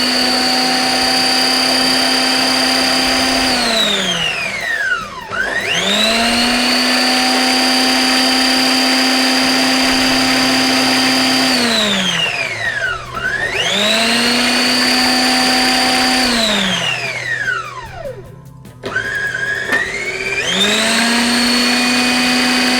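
Electric mixer whirring through Insta Mac and sauce in repeated bursts, each a loud high whine that spins up, holds and winds down, with short pauses between runs and no talk.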